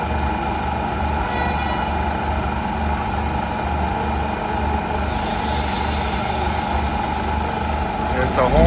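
The horn of a northbound SRT passenger train sounds at Lamae, Chumphon, Thailand: sustained tonal blasts over a constant idling diesel rumble, loud and nearby.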